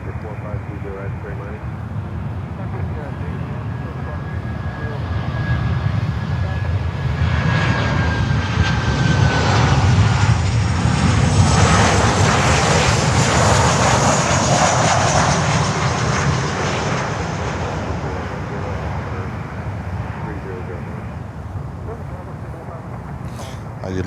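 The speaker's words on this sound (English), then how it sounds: "the Dreamliner looks like a runway 12 arrival of the Dreamliner. American Airlines flight 688 from JFK" An American Airlines Boeing 787 Dreamliner arriving on runway 12 at Miami, a loud sustained engine roar that swells and fades, with a thin whine gliding through it and talk in the background.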